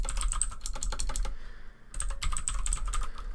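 Rapid typing on a computer keyboard while naming a file, dense close clicking keystrokes in a fast burst, a brief pause, then another quick run of keys, with no talking.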